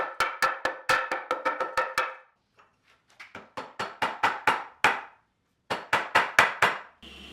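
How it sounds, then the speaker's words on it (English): Mallet driving a long flat-backed mortising chisel into wood to cut a deep mortise, a rapid run of sharp ringing knocks in bursts separated by short pauses, close and with no talk. "these have a long, straight, flat back for making cutting deep mortises like this easier and more accurate"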